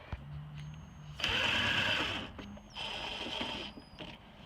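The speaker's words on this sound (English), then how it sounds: "I'm not going to let the impact do its thing yet. I'm just going to snug them up." An impact wrench snugs up bolts on the door of a 2003-2007 Silverado or Sierra truck during a window regulator install: two short, close, whirring runs come with a brief gap between them.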